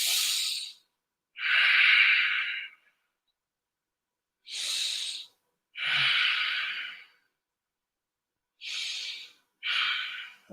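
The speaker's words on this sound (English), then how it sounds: "Take a deep inhale in through the nose and exhale through the nose." Three slow, deep nasal breath cycles, each a soft hissing inhale followed by a longer, airy exhale, heard close and separated by silent pauses.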